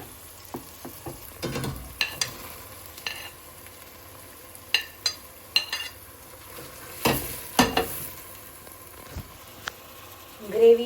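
Stirring capsicum into a frying pan with onion, garlic, ginger and chili paste: a spoon scrapes and knocks in scattered strokes over a steady soft sizzle, close and moderately loud.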